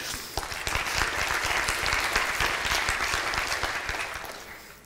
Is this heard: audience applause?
yes